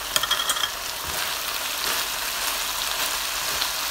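Broccoli and other vegetables sauté in a hot pan with a steady, bright sizzle, and a few sharp clicks and scrapes of stirring near the start.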